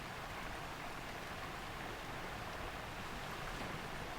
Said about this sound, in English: It's just a small branch of the waterfall.